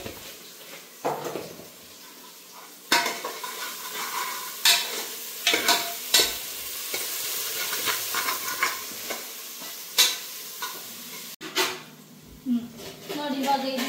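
Food is stirred in a hot pan after salt goes in, with repeated spoon scrapes and clatters over a low sizzle, close by, and a voice speaking intermittently.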